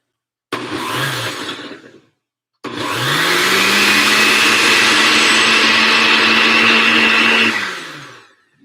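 Countertop blender whirring as it heats a ginger mixture: a short loud burst, a pause, then a long steady high-speed roar that winds down near the end, with no talking.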